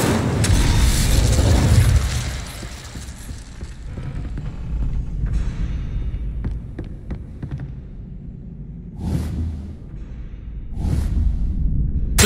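Incendio fire spell in the Hogwarts Legacy game, a loud roaring burst at the start that fades, followed by a few smaller whooshing flares later on.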